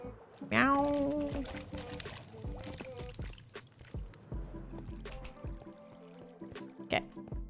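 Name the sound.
water being placed and flowing in Minecraft, video game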